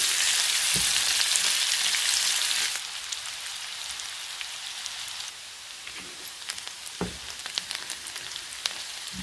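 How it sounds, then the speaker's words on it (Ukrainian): Onions frying with a pre-made fried dressing in a pan sizzle steadily and closely, loud and dense at first, then easing into a softer crackle with occasional pops and small stirring knocks, no talk. "І жарю її разом уже і ту зажарку із цибулю."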